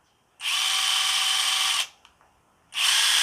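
Banggood brushless impact driver run at its slowest speed: a steady high-pitched motor whine for about one and a half seconds, a short pause with faint clicks, then the whine starts again, loud and close.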